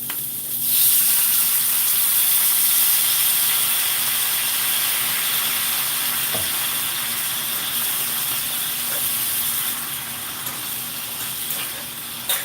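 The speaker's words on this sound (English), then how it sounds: "So now we're going to add a little bit of stock in there." Stock poured into a hot pan of smothered pork chops and green beans gives off a loud, steady steamy hiss and sizzle that runs the whole time, with a few faint clinks near the end.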